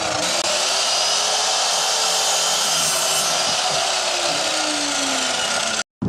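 A power tool cutting wood whines steadily and loudly at close range, its pitch sagging slightly as it bites into the material, then cuts off abruptly at the end.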